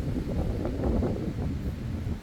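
A short burst of steady wind buffeting the microphone, a low rumbling roar with no voices.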